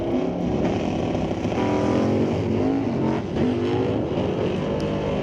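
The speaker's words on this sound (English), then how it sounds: "Wow, wild ride for Grant Clone over there in the right-hand lane. Multiple wheelies." Drag race cars launching side by side down the strip at Mission Raceway Park in an ET Series race, one doing multiple wheelies; a loud, sustained roar of engines and throttle fills the whole stretch with no talk.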